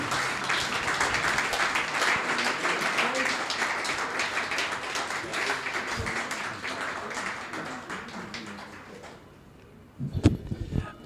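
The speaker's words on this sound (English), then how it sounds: "Round of applause for Michael." Fans at a QPR fans' forum applaud with sustained, dense clapping for about nine seconds that fades out, followed by a few scattered claps and some faint voices.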